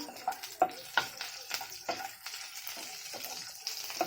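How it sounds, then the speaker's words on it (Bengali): Chopped ginger, garlic and whole cumin fry in oil, a soft crackling sizzle broken by several light spatula taps and stirs, fairly quiet and close. "জিরেটা দিয়ে একটু ভেজে নিলাম"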